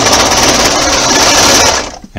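A sewing machine stitching a ribbed thumb hole cuff, a loud, rapid, steady mechanical whirr running continuously close up before cutting off abruptly near the end.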